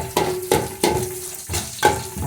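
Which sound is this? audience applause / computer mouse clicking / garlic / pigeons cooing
garlic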